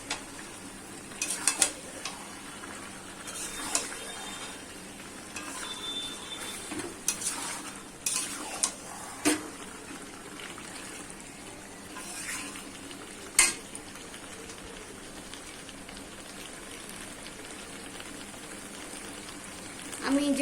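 Partly boiled mutton sizzles steadily in a pan, with intermittent scraping and clinking as it is stirred, and a person talking at times over the frying.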